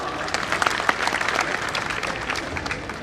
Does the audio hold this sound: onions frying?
no